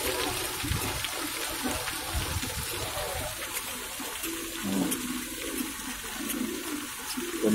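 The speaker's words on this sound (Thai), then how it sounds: "น้ำตกหิน" Rock waterfall at a flower farm, a steady broadband rush of falling water that runs continuously and fairly close, with faint trickling texture and no talk.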